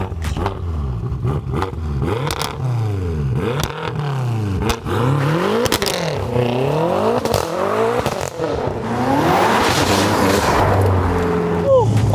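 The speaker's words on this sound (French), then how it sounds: "ce petit bruit de V8 biturbo" A BMW M6 with a twin-turbo V8 revs loudly nearby, rising and falling in repeated sweeping surges with sharp pops and crackles between throttle blips.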